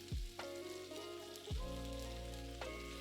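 Half-cooked plantain pieces for a Kerala stir-fry hit a pan of hot oil with chilli powder, giving a loud, close, continuous sizzle with brief sharp surges as pieces drop in.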